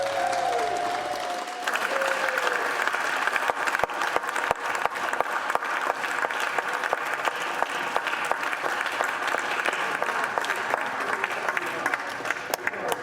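Senators in the chamber clap after an overnight vote on a COVID relief bill, sustained applause with sharp individual claps standing out, briefly overlapped by a voice at the start.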